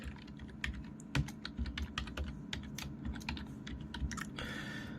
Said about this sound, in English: I'm going to type in the ArtsNX website, which is artsnx.org